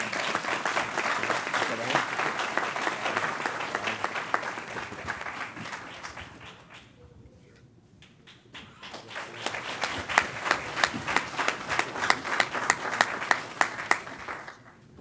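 A police academy graduation audience at the DeKalb County Class 118 ceremony gives a round of applause. Dense clapping fills the hall, fades out briefly midway, then swells back louder with sharp individual claps standing out.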